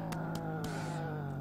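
A police car driving in the video game Earn to Die 2 smashes through crates, its engine a steady loud drone with a few sharp bursts of impact noise near the start.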